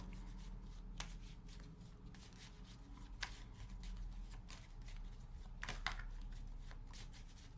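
Oracle cards being shuffled and drawn, soft riffling and flicking at close range with a few sharper card snaps, quiet and without talk.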